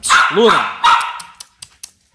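A pit bull gives a couple of sharp, close barks with a whiny edge, followed by a few faint clicks and taps as it trails off.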